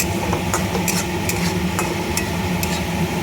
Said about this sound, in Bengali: ভালো করে ডালটা একটু ভালো করে ভেজে নিচ্ছি লাল করে